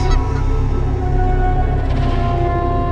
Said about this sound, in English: Geese swim on the water. This is a family of geese.